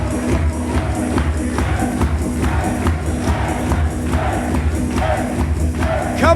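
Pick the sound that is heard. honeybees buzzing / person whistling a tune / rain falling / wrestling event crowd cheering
wrestling event crowd cheering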